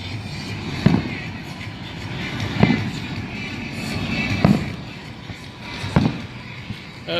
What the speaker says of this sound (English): Those fireworks are amazing.